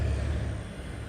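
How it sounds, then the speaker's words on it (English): A garbage truck passes on a weekday morning, a steady low rumble of heavy diesel engine and road noise holding at even loudness throughout, close by and alone with no talking. "That was the garbage truck."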